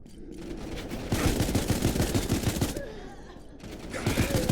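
Rapid gunfire from a space shooter video game, Spacebourne 2, with dense bursts of shots running steadily through most of the stretch under a constant layer of game sound.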